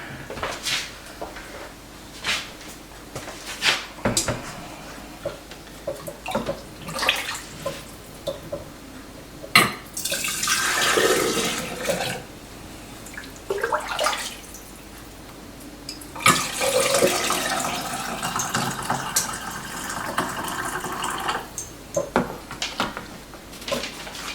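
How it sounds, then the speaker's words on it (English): Hot turkey stock is ladled and poured into heated canning jars, with bursts of liquid splashing and gurgling between clinks and handling noises, moderately close in a home kitchen. "I'm going to go ahead and fill my jars. I'm putting hot stock in here"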